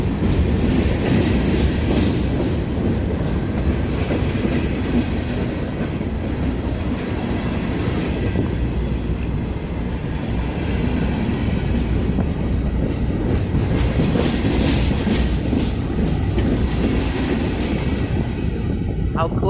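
A long freight train hauled by SD70ACE locomotives rolls past very close by, a steady loud rumble with wheel clatter and rail noise running throughout without letup.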